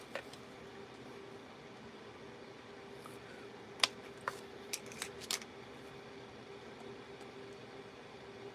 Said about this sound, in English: These scissors come in really handy for taking off little parts.